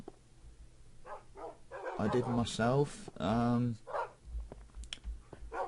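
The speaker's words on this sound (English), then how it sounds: "oh, there's my dogs." Dogs bark and yip in Minecraft, a cluster of short calls in the middle, mixed in with a person talking over the game.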